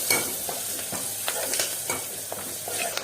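Curry leaves hitting hot oil with turmeric in a pan, a steady crackling sizzle with intermittent stirring clinks, no talk.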